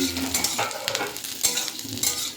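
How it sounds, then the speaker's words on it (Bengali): Papaya pieces frying in a pan with stirring, a continuous close sizzle broken by scraping strokes of a spatula, no voices. "পেঁপেগুলো ভাজা হয়ে গেছে"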